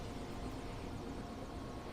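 A helicopter takes off in the video game Alan Wake, its rotor and engine producing a steady, faint whirring roar.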